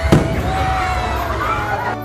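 Fireworks pop and crackle over a busy theme park crowd murmur, with a sharp burst at the start and a dense, rumbling backdrop of voices and bangs.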